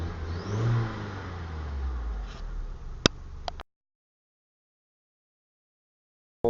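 A 2000 VW Beetle MK4, just repaired after a blown head gasket, runs with its engine revving up close. It gives a couple of sharp ticks, then cuts to silence.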